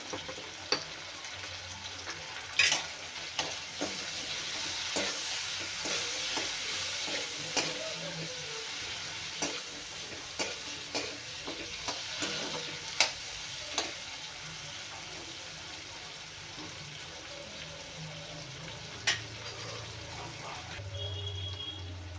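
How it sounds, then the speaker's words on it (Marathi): Tomatoes fry in oil in a pan with a steady soft crackle, broken by scattered sharp clicks and scrapes of a spoon stirring, close by and without speech. "इथे टोमॅटो पण छान भाजून घेणार आहे मी तेलामध्ये"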